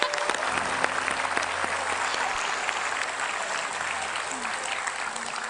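Studio audience breaks into applause at a talk show with a former JKT48 and AKB48 member, even clapping that holds steady for several seconds and fades slightly toward the end.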